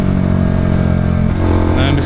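Bajaj Dominar 400 UG2 motorcycle engine running steadily while riding, a loud continuous low drone throughout, with a voice talking over it.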